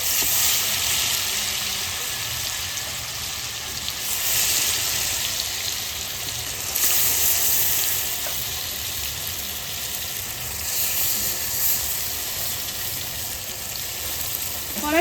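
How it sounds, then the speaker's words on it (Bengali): Marinated hilsa fish pieces frying in hot oil in a wok give a loud, continuous hissing sizzle that swells and eases slightly over the whole stretch, heard close with no voices. "তেল গরম হয়ে গেছে এবার আমি ম্যারিনেট করা মাছটা দিয়ে দেবো কড়াইতে"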